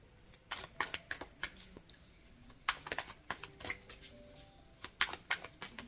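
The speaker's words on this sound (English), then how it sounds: "I'm gonna shuffle." Tarot cards are shuffled by hand during a love reading, a series of quick riffling bursts and soft slaps arriving in irregular clusters, close and crisp.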